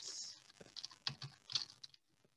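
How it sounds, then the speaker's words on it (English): Text typed on a computer keyboard, a quick close run of light plastic key clicks in an uneven rhythm that stops near the end. "We're going to go to text and just type it out."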